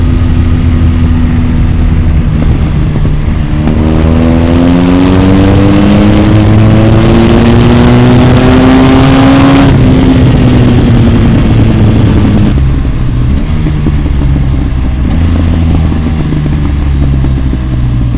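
A BMW R1250GS motorcycle with an aftermarket exhaust and BT Moto tune roars continuously, pitch climbing then falling away as it decelerates, with loud exhaust burble and wind rush throughout.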